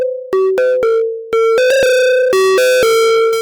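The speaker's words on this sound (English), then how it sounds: "Let's kill the dynamics of this sine wave pluck melody." A synth melody of short sine-like plucked notes, squashed flat so every note holds at the same loudness with no decay, slightly distorted and buzzy.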